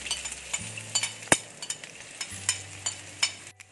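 Oil sizzles steadily as diced shallots fry in a pan, with a few sharp clinks of a utensil against the pan over a low hum.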